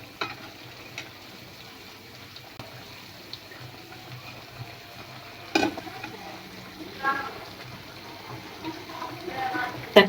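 Khesari lentil fritters frying in hot oil over a medium flame, a low steady sizzle with occasional louder crackles and utensil scrapes, fairly quiet overall.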